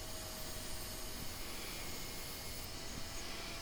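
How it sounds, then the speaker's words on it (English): A table saw rips half-inch birch plywood in a workshop, its steady loud broadband whine holding constant throughout with no pauses or talk. "At the table saw, I cut the plywood 3/4 of an inch wider than the aluminum Schluter square."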